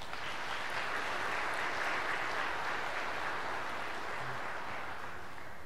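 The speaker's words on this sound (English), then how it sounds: "Let's give Gabriel a round of applause." A church congregation at a Catholic Mass gives a round of applause, a steady, fairly faint wash of clapping that fills the room without a break.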